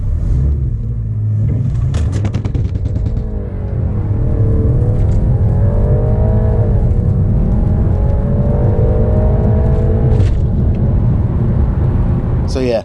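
A BMW 330e hybrid, rear-wheel drive, pulls hard from a standstill on a wet road, its engine drone rising in pitch through the gears under a steady road rumble, heard from inside the cabin with people talking over it.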